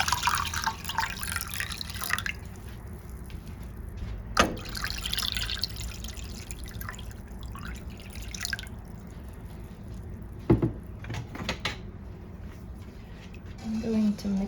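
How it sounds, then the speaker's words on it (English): Water poured from a container into a cooking pot while making strawberry juice, a soft trickling and splashing under a person talking, with a few sharp clinks. "We're going to add 1 liter of water."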